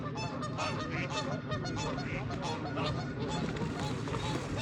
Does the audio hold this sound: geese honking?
yes